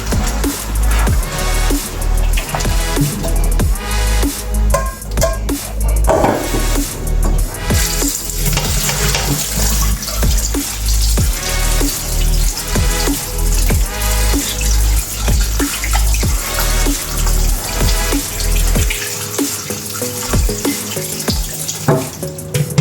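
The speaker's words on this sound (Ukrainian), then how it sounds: "будемо промувати нашу картопельку холодною водою" Cold tap water runs steadily and loudly over potatoes being rinsed, splashing with clattering and rattling, continuing throughout without pause.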